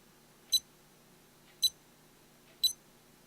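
A spy watch button gives three short, sharp electronic beeps, evenly spaced about a second apart in a quiet room.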